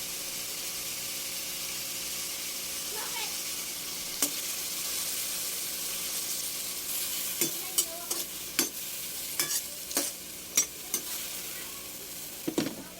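Tomatoes sauté with fish sauce for a squid dish, a soft continuous sizzle joined later by a run of crisp spatula clicks and scrapes against the pan, near and unaccompanied by talk.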